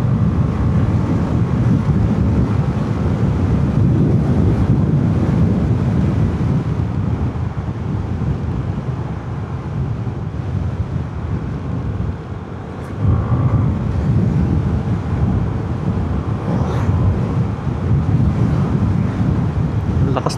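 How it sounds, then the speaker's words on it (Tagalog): Strong wind buffets the microphone in a steady, loud roar for the whole stretch, with brief dips, recorded while riding along the roads around Jalajala, near windmills. "Lakas ng hangin."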